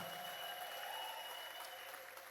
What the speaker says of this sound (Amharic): እልልታ ጭብጨባ ክብር ያሰማ